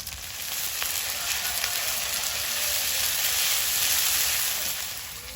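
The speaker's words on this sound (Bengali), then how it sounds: "তেলের মধ্যে দেবো একটু গোটা গরম মশলা তেজপাতা পেঁয়াজ কুচি চেরা কাঁচা লঙ্কা আদা রসুন বাটা" Whole garam masala, bay leaf, chopped onion and slit green chillies sizzle steadily in hot oil in a kadai, a dense, continuous frying hiss that holds close and fairly loud throughout with no talking.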